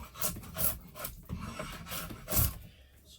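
Knife shaving down the wood of an English longbow stave, a series of soft raspy strokes, each a short scraping burst, with quiet pauses between them.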